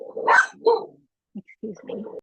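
A pet dog barks at another dog outside, a few sharp, fairly close barks and yips with short pauses between them, mixed with a man's brief spoken remark.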